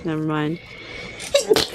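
A single sharp sneeze bursts out near the end, preceded by a brief voiced sound and followed by a short remark, all close to the microphone.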